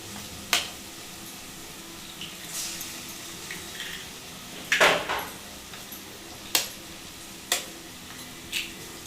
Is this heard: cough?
no